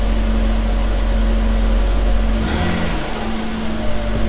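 A Mercedes-Benz W124 engine idles steadily with fresh spark plugs, a constant low hum close by, with a slight shift in tone partway through and no talking.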